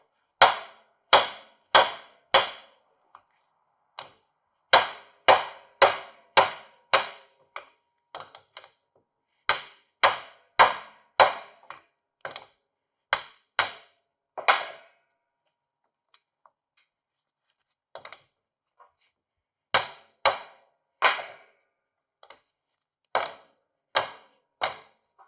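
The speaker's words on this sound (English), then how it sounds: "we're going to tap on the outer and drive the caps of the U-joint out" Sharp hammer taps drive U-joint caps out of a Dana 60 front axle yoke held in a vise on a Ford F250/F350 4x4, coming in quick ringing bursts of several strikes separated by short pauses, close and loud with no talk.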